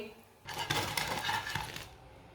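Homemade aloo tikkis (potato patties) are set onto a plate in a kitchen, giving a quiet, brief run of dish and utensil clinks and scrapes lasting about a second and a half.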